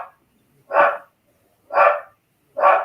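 A pet dog barks three times, sharp and evenly spaced, fairly close, with short quiet gaps between barks and no talk over them.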